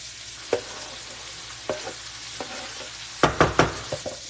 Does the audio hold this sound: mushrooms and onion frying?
yes